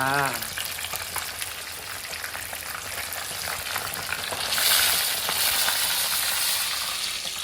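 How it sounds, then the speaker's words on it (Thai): Fresh fish from a pond frying in hot oil, loud and close, with a continuous crackling sizzle and occasional stirring. The sizzle swells brighter partway through. "กำลังทอดปลาจ้า"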